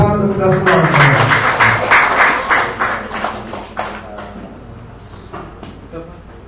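An audience claps after a morning talk on probiotics for fish and livestock farming, a burst of applause that peaks early then thins into scattered claps and fades out.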